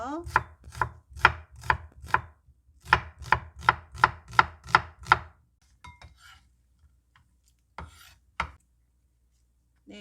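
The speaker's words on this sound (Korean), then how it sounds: "반 개 정도는 얇게 채를 썰어가지고 좀 찬물에 살짝 담가놔 주세요" A knife thinly slicing half an onion on a cutting board for a zucchini salad, a quick run of about a dozen crisp, evenly spaced chops, close and clear, followed by a few scattered softer taps and a final cut.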